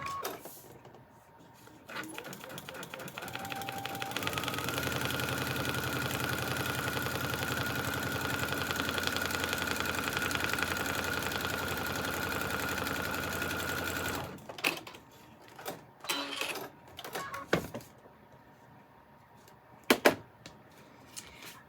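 A sewing machine stitches foundation paper-pieced quilt sections for a trinket pattern in one long, steady whirring run of about ten seconds, then stops, followed by quieter rustling and handling clicks.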